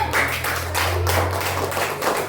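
A short burst of clapping from a small group, uneven hand claps over a low steady hum, no talking.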